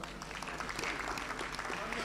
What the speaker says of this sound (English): Ladies and gentlemen, let's clap for this man.